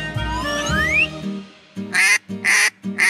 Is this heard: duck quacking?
yes